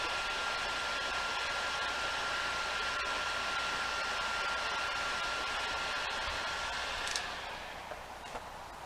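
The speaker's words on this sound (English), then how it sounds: "I'll put a link also for a heat gun like this" A heat gun blows hot air on a large-gauge wire's copper ring terminal, a loud steady roaring whoosh with a faint whine running nearly nine seconds before easing off at the end, with no voices.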